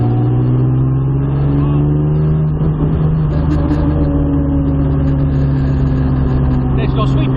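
A modified Jaguar E-type's engine drones loud and steady from inside the car, pulling through the gears with rising and shifting tones and a busy rumble.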